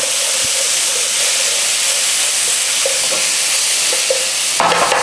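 Garlic ginger paste frying in a pan, a steady loud sizzle and hiss with occasional stirring scrapes and a sharper burst of crackle near the end.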